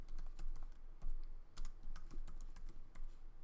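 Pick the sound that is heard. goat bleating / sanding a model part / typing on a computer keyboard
typing on a computer keyboard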